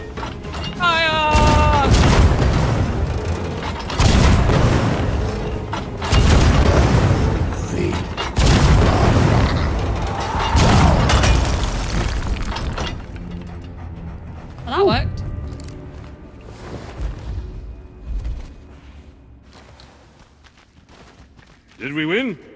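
Heavy booms of ship cannon fire and explosions in Sea of Thieves hit repeatedly, several loud blasts spaced a few seconds apart, mixed with creaking wood, mechanisms and voices, then trailing into quieter scattered bangs.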